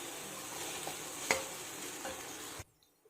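Elephant yam fry being stirred in a hot pan, a steady soft sizzle with scraping and one sharp clink of the spoon, then stopping abruptly near the end.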